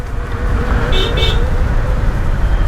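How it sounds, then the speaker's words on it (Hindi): Two short car horn toots sound over a loud, rumbling bed of idling engines and road noise in a long traffic jam on the Delhi to Noida route, close and busy. "देखो कितना लंबा ट्रैफिक जाम है"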